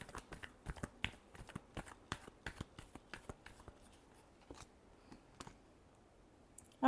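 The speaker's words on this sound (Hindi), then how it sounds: "Last shuffle." Tarot cards are shuffled close by in a quick series of crisp riffling snaps that thin out toward the end, with a sharper knock at the very finish.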